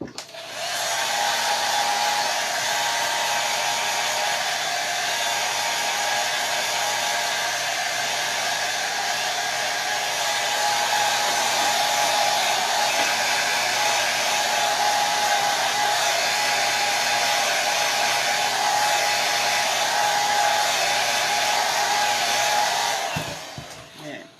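Hair dryer drying chalk paint on a picture frame, a loud steady close whooshing blow running nonstop for over twenty seconds before switching off at the end.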